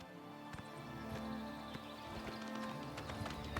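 Horse hooves clip-clopping at a walk in the video game Oblivion Remastered, a steady close series of hoof taps over a low ambient game background.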